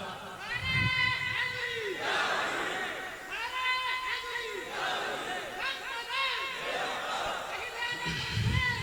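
A crowd at a religious gathering shouts a slogan in unison, answering a leader with loud, repeated chant-like bursts every couple of seconds that echo through the hall.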